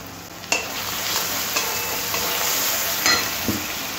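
Turmeric, chilli powders, green chillies, ginger-garlic and cashew paste fry in a pan for chicken maharani, with a steady broadband sizzle and a few sharp scraping stirs near the start and end.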